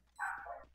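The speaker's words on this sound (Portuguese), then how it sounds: "Eita, o cachorro, moço." One brief, faint dog bark, a short yappy bow-wow, sounds at moderate distance against a quiet low hum, with no talk over it.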